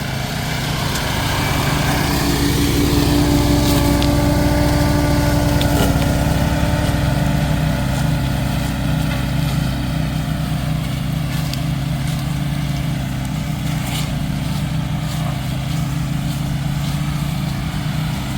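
A Beaver Tech 20-horsepower brush cutter runs continuously while mowing down small saplings on a trail, a loud, steady engine drone close by with shifting load and no talk.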